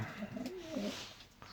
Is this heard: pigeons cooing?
yes